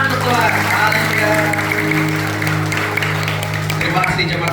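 A church congregation at a Christmas service applauds together, a sustained wash of clapping over a steady hum and faint voices throughout.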